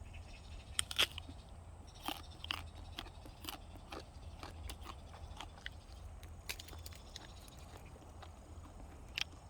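Someone bites into and chews a large apple jujube picked up outdoors, giving faint, scattered crunchy snaps and clicks over a quiet background, with no speech.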